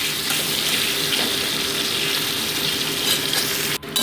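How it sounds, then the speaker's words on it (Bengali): Potato pieces frying in a pan for an aloo potol curry with lentil fritters, a steady, loud, dense sizzle running throughout with a brief clatter near the end. "ভালো মতো আমি আলুটাকে লাল লাল করে ভেজে নিচ্ছি।"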